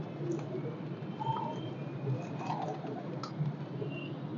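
Pigeons coo softly, with a few low calls over a steady murmur of rustling and background noise.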